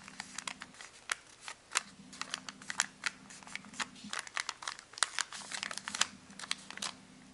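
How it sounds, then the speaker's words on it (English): Paper is being creased and folded by hand for an origami turbine spinner, giving repeated crisp crinkles and snaps in irregular bursts, close and clear, with a faint low hum underneath. "Turn this flap along the central line as if turning the page of a book."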